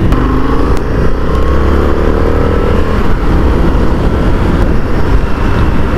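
An Indian FTR 1200 motorcycle engine runs loud and close, revving with a rising, strained tone and then settling into a continuous rough roar.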